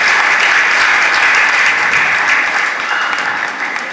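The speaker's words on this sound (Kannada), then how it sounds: "ದಯವಿಟ್ಟು ಆದಷ್ಟು ಬೇಗ ಒಮ್ಮೆ ಜೋರಾದ ಕೈ ಚಪ್ಪಾಳೆ ಬರಲಿ ಎಲ್ಲ ಸಂಘಟಕರಿಗೆ" Loud, sustained applause from a crowd at an award and scholarship distribution ceremony, thick continuous clapping that holds steady and then slowly fades toward the end.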